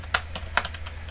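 Quick keystrokes on a computer keyboard while writing Java code, a handful of sharp clicks at uneven intervals, close and clear over a low steady hum, with no talking.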